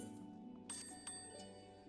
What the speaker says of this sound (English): A summoning bell.